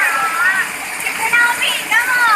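Stream water runs and splashes on its way toward Anislag Bangon Falls, a steady bright rush heard up close beneath a person talking over it.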